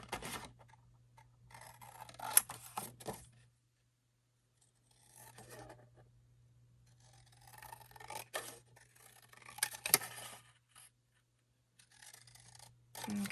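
Scissors cutting out a paper craft piece for a heart-shaped explosion box, producing quiet bursts of snipping and rustling separated by near-silent pauses over a faint low hum.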